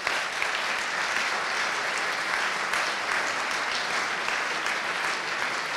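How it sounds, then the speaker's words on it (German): Steady audience applause at a Styrian state address, dense and continuous from start to finish, with no speech over it. "Applaus"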